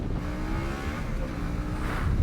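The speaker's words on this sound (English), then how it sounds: "This motor just pulls and pulls." Harley-Davidson Pan America 1250 motorcycle engine pulling hard under acceleration on a gusty day, a steady low rumbling drone that swells slightly toward the end, with wind buffeting.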